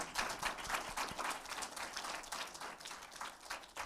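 A round of applause from an audience at a women's leadership event, many hands clapping in a fairly quiet, slightly distant patter that holds steady for a few seconds.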